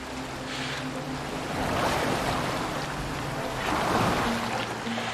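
Boat sailing through ocean waves in Assassin's Creed Valhalla, with a steady wash of surf, water and wind that swells twice, plus a low droning hum underneath.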